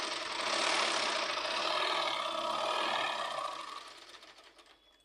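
A sewing machine stitching a fall cloth onto a saree runs in a fast, close, whirring burst for several seconds, then slows and fades out, with no talking over it.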